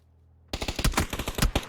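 Rapid burst of video game gunfire, a quick string of roughly fifteen sharp, loud shots fired close together after a short silence, with no voices present.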